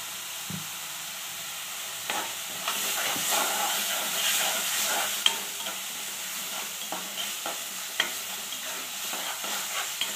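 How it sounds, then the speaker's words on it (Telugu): Chopped onions frying in a pan on full flame with salt added, giving a steady close sizzle and hiss with occasional stirring clicks and scrapes, no voices. "సగం వేగిందండి ఉల్లిపాయ."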